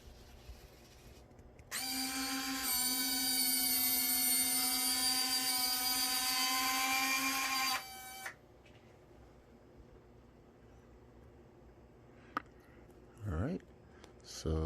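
Retractable landing gear of a Freewing MiG-29 twin 80mm EDF RC jet extending, a loud steady electric servo whine lasting about six seconds, close up, followed by faint clicks and small mechanical noises.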